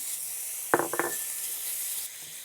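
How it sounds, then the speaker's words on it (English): Bacon frying in a hot pan, a steady soft sizzle under a couple of sharp clinks as it is stirred around. "we just want to stir the bacon around in the pan and cook it until all the fat renders out and it becomes nice and crispy"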